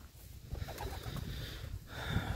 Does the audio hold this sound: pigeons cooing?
yes